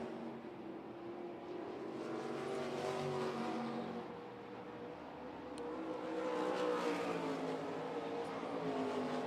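Sprint cars roar around the dirt oval at Volusia Speedway Park during a feature race, a continuous distant engine drone that swells and fades as the pack passes.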